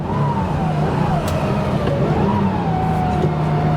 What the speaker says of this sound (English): But the engine just runs beautifully.